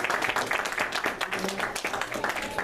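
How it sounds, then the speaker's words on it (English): Audience applause at a youth motivational speaking event, a busy irregular patter of clapping filling the room, with some voices mixed in. "Can I get a round of applause for that?"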